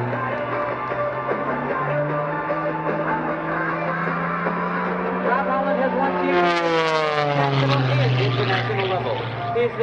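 An aerobatic propeller airplane flying an inside tumble at an Air National Guard airshow, its engine droning steadily and then swelling into a rising, sweeping roar as the plane tumbles, loud and continuous for about ten seconds.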